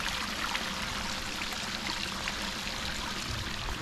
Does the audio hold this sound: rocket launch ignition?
no